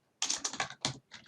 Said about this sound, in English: I'm just going across and typing in all the names of the variables